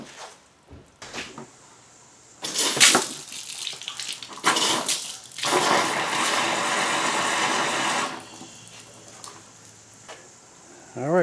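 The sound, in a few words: water flushing through Audi B5 heater hoses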